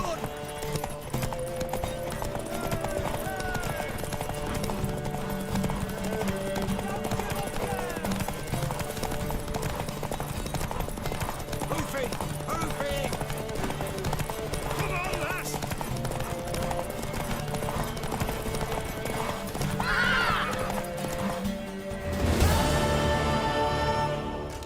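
Horse hooves clip-clopping in the video game Witcher 3, a steady rhythmic beat under a continuous bed of game music and ambience, with a short louder burst near the end.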